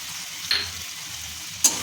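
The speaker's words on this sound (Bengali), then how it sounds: "আমি এবার দিয়ে দেবো বেটে রাখা সর্ষে, কাঁচা লঙ্কা, জিরে বাটাটা। এটাও ভালো করে কষিয়ে নেব।" Mustard, green chilli and cumin paste stirring and frying with potatoes and tomatoes in a pan, a steady close sizzle with two sharper spatula scrapes.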